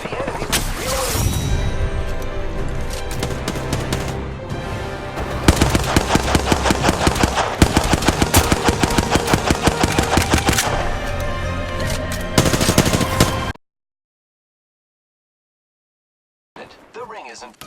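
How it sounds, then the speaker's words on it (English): Automatic weapon fire in the video game Apex Legends, loud rapid bursts of shots in steady rhythmic volleys with brief pauses, cutting off abruptly into silence before a short final burst. "I'm getting shot at"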